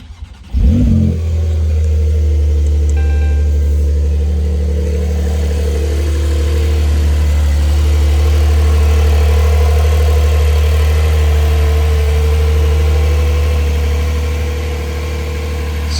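A cold Porsche 911 GTS 4 Cabrio engine gives a sharp rev near the start, then settles into a loud, steady, deep idle that rumbles on close by without any voices.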